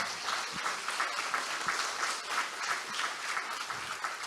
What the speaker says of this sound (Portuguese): Aplaude mesmo, aplaude.